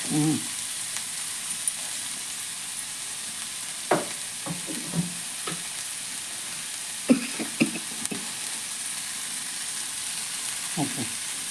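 Vegetables cooking in a pan with turmeric give a steady low sizzle, broken by scattered stirring scrapes and clinks, with no one talking.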